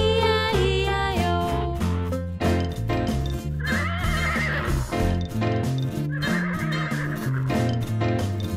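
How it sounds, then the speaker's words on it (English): A cartoonish horse neigh and whinny rings out over a bouncy, loud children's-song arrangement of Old MacDonald Had a Farm, with clip-clop-like hoof beats woven into the music. "And on that farm he had a horse, E-I-E-I-O."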